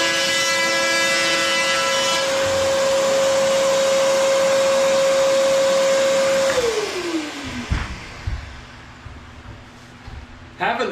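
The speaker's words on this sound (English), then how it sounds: "Having the shop vac while you're using the tool sure cuts down on dust." A shop vac runs during kitchen demolition cutting, a loud steady whine with a humming tone that holds, then spins down and fades partway through, leaving quieter clatter and handling noise.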